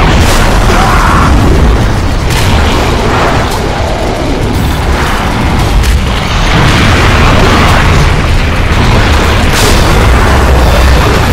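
A bomb explosion in the Gears of War 2 video game, a very loud sustained rumbling boom with repeated bursts and crackling debris throughout, no talking.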